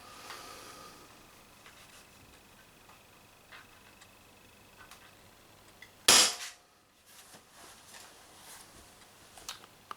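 A single sharp shot from a power-tuned Umarex TB68 air rifle cracks out loudly against a quiet background, with faint clicks before it.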